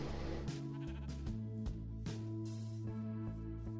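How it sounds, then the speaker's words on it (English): Sheep in the Minecraft video game bleat repeatedly in short, wavering calls that overlap one another, up close and with no talk. "Bald sheep on the tree."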